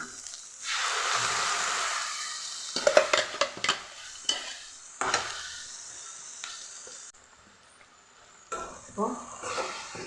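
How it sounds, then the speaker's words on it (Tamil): Chopped tomatoes tipped into a hot pan for an egg curry masala, with a burst of sizzling followed by clattering stirs and scrapes of a utensil against the pan, close and fairly loud. "தக்காளி உள்ள ஊற்றிக்கிறேன்"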